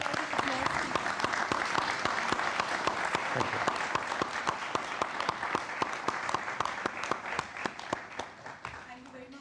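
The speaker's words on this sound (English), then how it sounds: "May I have standing applause from the audience, please?" An audience at a televised dialogue event gives standing applause. Dense, continuous clapping sounds at moderate distance, holds steady for several seconds and then begins to taper off.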